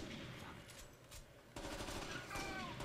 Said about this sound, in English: That was a nice double shot.